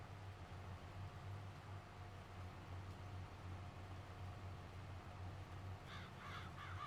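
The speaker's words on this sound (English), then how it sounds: "Go away, crows." Crows caw in the Farming Simulator 22 game, a few harsh calls near the end over a steady low engine drone of farm machinery.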